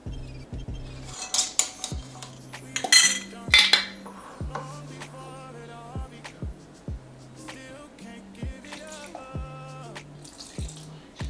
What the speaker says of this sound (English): Now we just gonna mix it